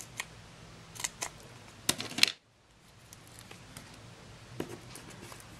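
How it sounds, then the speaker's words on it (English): Scissors snip a Stampin' Dimensional adhesive pad during a papercraft project for a Lindt chocolate egg holder, giving a few quiet, close clicks and a brief louder cluster of cuts, then near silence with faint handling. "this time I'm going to snip it"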